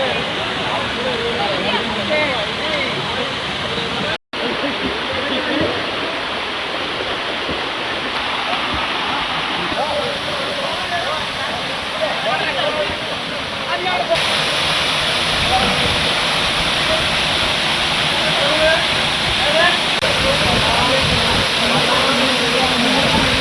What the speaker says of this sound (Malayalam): ഏറ്റവും മേലെ നല്ല വെള്ളച്ചാട്ടം